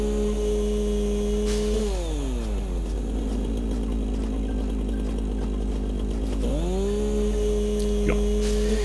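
A chainsaw in the video game Satisfactory clears ground, its motor droning steadily, dipping and surging in pitch as it revs down and back up, loud and continuous with no talking.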